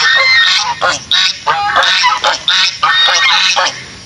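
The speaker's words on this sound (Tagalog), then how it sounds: "dito naman yung ating mga alagang pato at saka gansa" Farm geese kept alongside ducks honk loudly and repeatedly at close range, a rapid series of harsh overlapping calls with brief gaps between bursts.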